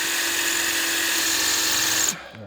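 A power drill boring a hole in a car with a smaller bit whines steadily at high speed, loud and close, then abruptly cuts off near the end.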